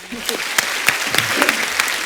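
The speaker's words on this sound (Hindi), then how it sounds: "इनके लिए जोरदार ताली हो जाए यार" Studio audience on a Hindi comedy talk show bursts into steady, loud applause, dense clapping filling the room with a few sharper claps standing out, with speech-like crowd noise mixed in.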